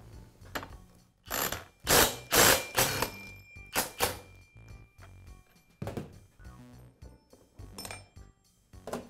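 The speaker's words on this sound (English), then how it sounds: "Then I'll use an impact driver to remove the clutch." An impact driver removes a Poulan chainsaw clutch, rattling in several loud hammering bursts with metallic ratcheting clinks and short pauses between them, close up, with no talking.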